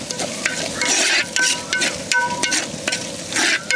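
Onions being sautéed with turmeric powder in a pan for chicken kurma, steady sizzling frying with repeated stirring scrapes and clinks of a spoon against the pan, close and fairly loud.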